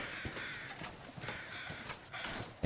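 Crows cawing in The Long Dark on a mountain summit, several harsh caws repeating irregularly over a steady wind-like background, moderately distant, with no talk.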